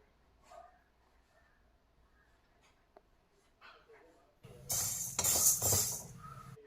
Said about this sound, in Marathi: तर आता आपण हे भाजून घेऊया कढईमध्ये